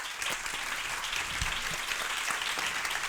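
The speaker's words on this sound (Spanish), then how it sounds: "vamos a darle un fuerte aplauso" Audience at a feminist intergenerational gathering gives steady, dense applause throughout, a continuous wash of many hands clapping at moderate level with no talk over it.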